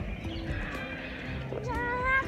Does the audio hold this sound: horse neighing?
yes